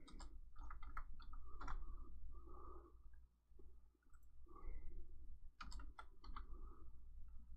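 Fingers type on a computer keyboard in short bursts of quiet clicking keystrokes, broken by brief pauses, close and soft.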